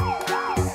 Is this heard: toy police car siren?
yes